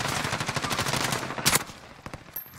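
Rapid automatic gunfire in the Call of Duty Warzone video game, a dense burst of shots followed by a louder single blast and a few scattered shots fading out.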